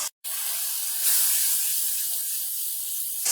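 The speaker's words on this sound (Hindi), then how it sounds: "मसाले को हम ऑयल सेपरेट होने तक भून लेंगे" Masala of salt, red chili and white cumin fries in hot oil for a restaurant-style gobhi matar sabzi, giving a steady, close sizzling hiss that runs unbroken after a brief silent gap at the start.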